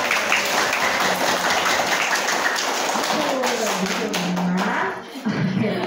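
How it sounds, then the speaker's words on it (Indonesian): Children clap their hands in an online class session, a dense patter of light claps that carries steadily before tapering off near the end, with voices mixed in. "boleh kita tepuk tangannya"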